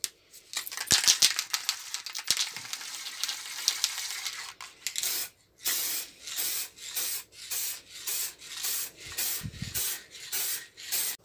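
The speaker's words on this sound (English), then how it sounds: "So we'll spray this on first, a couple of coats, let it dry" An aerosol can sprays polyurethane coats onto a router-carved wooden plaque in rhythmic bursts, each hiss a second or so long and separated by short gaps, preceded by some rubbing and rattling handling noise.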